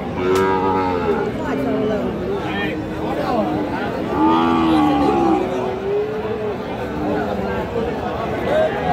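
Sahiwal bull calves at a livestock market, lowing in several drawn-out moos close by, over steady crowd chatter and talk.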